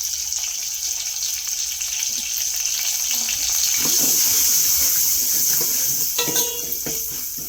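A kitchen tap runs while spinach and tomatoes are washed under it. The stream is a steady splashing hiss, with clinks and handling noises of the produce and bowl breaking through it, and no talk.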